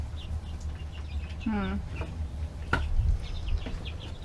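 A few high, thin chirps from a baby bird trapped in a wall stand out over low background rumble and handling noise, with a louder peep partway through.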